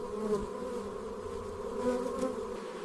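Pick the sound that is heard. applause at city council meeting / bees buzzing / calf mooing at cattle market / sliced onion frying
bees buzzing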